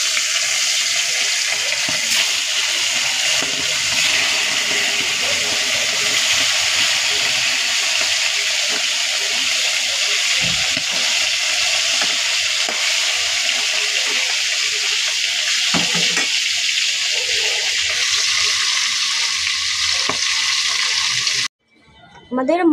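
Hilsa fish frying in hot oil gives a loud, steady hiss of sizzling that runs unbroken almost to the end, then cuts off briefly.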